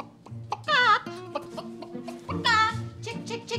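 A voice imitates a chicken's clucking in a cartoon scene, giving several quick squawking, warbling bursts in two loud clusters with short gaps between them.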